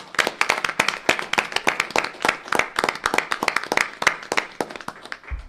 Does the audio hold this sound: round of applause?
yes